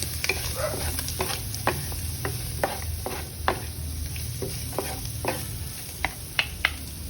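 Spam pasta with soy sauce and black pepper is stirred in a pan, with a soft steady sizzle and a run of scattered scraping clicks from a utensil, fairly close and unaccompanied by talk.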